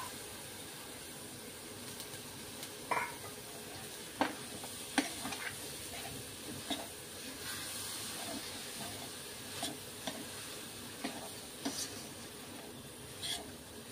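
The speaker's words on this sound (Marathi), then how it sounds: "आता ह्याच्यामध्ये मटकी घालायची आपण" Sprouted moth beans (matki) sizzle faintly in a pan for spicy misal, a soft steady hiss punctuated by occasional clicks and stirring scrapes.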